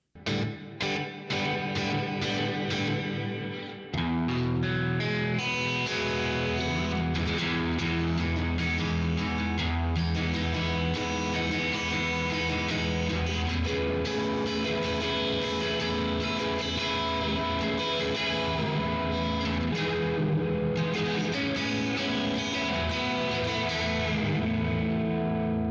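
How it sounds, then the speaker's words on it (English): Electric guitar runs through the hall reverb of a Flamma Corrector pedal, chords and notes ringing out loud with long, washy tails and sustained, effects-laden tone, playing continuously after a brief pause near the start. "Let's try out the hall at this setting."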